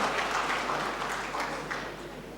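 Hall applause for the Governor of South Sulawesi, Indonesia, at a keynote lecture, a soft, somewhat distant patter of clapping hands that fades gradually over a couple of seconds.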